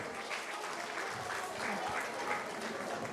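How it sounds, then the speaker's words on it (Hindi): An audience at a school annual day function applauds a dance performance, a soft, distant wash of clapping from a hall crowd, faint and continuous with a murmur of voices underneath. "जोरदार तालियां बजाएं इस नृत्य के लिए"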